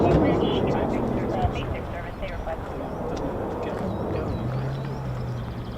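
A military jet approaches RAF Lakenheath, a broad steady roar holding throughout at moderate distance, with people talking over the engine noise outdoors.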